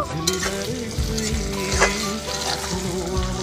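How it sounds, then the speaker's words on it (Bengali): Chopped onions fry in a pan with black cumin, white cumin and cloves, sizzling steadily up close while a spoon stirs and scrapes through them. "পেঁয়াজটা কিছু সময় নাড়াচাড়া করব"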